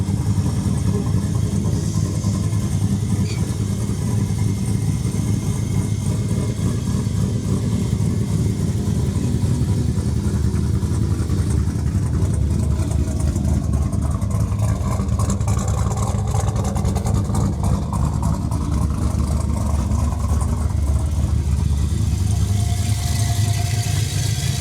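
Engine of a 1986 vehicle fitted with a Holley carburetor running as it is backed off a trailer, a loud, steady, rumbling idle that continues throughout with no break.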